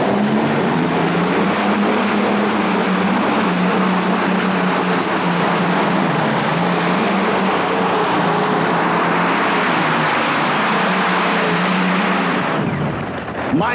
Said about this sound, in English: Haven't made Allison engines for a number of years, so everything on this tractor Mike Holden has made,